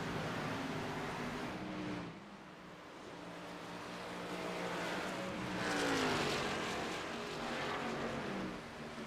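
Race cars lapping Homestead in a sim racing video game, engines droning steadily with rising and falling pitch as cars pass and swell closer, no voices over them.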